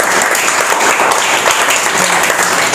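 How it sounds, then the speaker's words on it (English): An audience claps loudly and continuously for a student at an academy felicitation, a thick wash of many hands with a faint murmur of voices underneath. "Clap for her."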